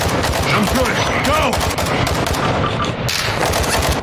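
Dense, rapid gunfire fills a video game firefight, loud and close with overlapping bursts of automatic shots rattling continuously throughout.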